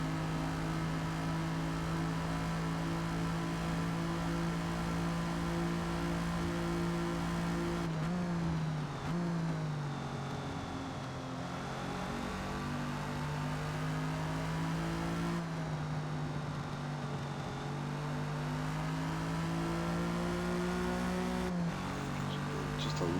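A 1956 Jaguar D-Type races around the Hakone GP circuit in Forza Motorsport, its engine droning loud and steady with shifts in pitch as it revs and backs off through corners.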